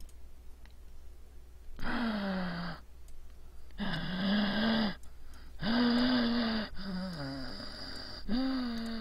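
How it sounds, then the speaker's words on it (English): Labored breathing, close and loud, in five long drawn-out breaths separated by short pauses, each a strained, wheezy sigh with a rough voiced edge. "Labored breathing."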